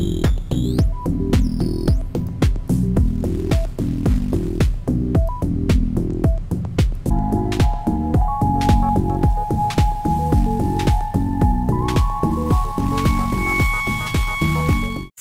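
Airwindows Pokey 12-bit lo-fi plugin demo playing a gritty lo-fi hip-hop beat, loud and continuous with steady punchy drums and a sustained tone entering midway.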